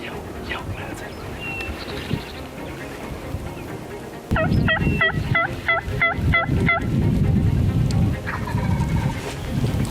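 A wild turkey in Missouri lets out a loud, rapid burst of gobbles midway through, ringing over a rough outdoor background of wind and rustle, with quieter stretches before and after.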